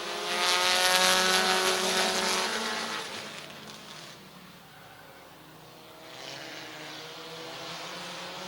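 Race cars roar past at Midvale Speedway, a loud engine surge sweeping by and fading, then another car's engine rising again in the distance.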